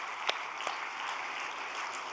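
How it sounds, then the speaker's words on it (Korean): A congregation at a vigil prayer service applauds steadily, a dense, even wash of many hands clapping with a couple of sharper claps standing out near the start. "그러한 우리 어머니께 감사의 박수를 보내드리면 좋겠습니다."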